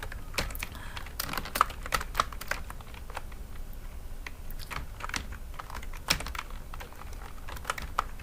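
Someone types on a computer keyboard while working in Photoshop, producing steady, close, uneven clicking keystrokes with no speech.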